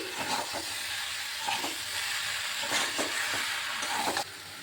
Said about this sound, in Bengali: এখন ভালোভাবে আর একটু ভাজা ভাজা করে নিচ্ছি